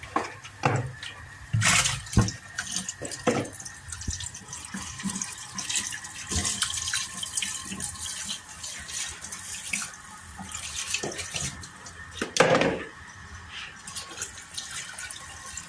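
A kitchen tap runs while anchovies are washed under it, a steady close water flow with splashes and clatters from handling, ebbing and surging, with no talk.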